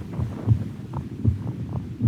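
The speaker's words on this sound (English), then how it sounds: "until the intrusion of our hero's pulsating heartbeat" Pulsating heartbeat sound effect from the film La Jetée, low muffled thumps pulsing in a steady rhythm, close and alone over a faint hum.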